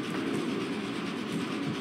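A train rolls steadily along in the video game Gang Beasts, its loud, continuous rumble with faint rail clatter holding the whole short moment, with no voices over it.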